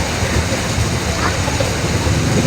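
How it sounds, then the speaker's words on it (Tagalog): Heavy rain pours outside a hospital ward as a steady, dense hiss, constant and moderately loud, with low rumble beneath and faint talk in the background. "Grabe, pinapalakas talaga yung ulan ba?"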